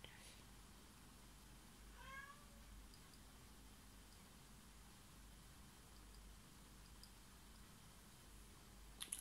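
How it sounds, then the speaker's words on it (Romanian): Faint cat meows indoors, a short rising call followed by a quiet background hiss, from a cat wanting to go outside. "o pisică ce vrea afară"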